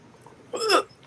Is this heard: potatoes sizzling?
no